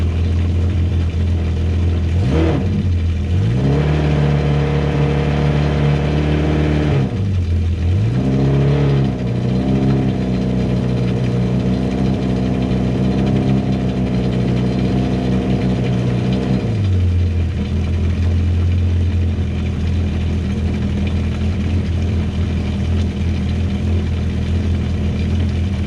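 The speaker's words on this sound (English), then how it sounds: "Take a listen to that exhaust note." A car engine is heard close up through its exhaust: it idles steadily, blips through a few quick revs that rise and fall, holds a higher steady note, then settles back to a low idle.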